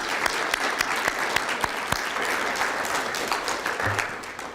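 Applause fills a banquet hall after students are honored, a steady mass of clapping with a few sharper, closer claps standing out, slowly easing toward the end.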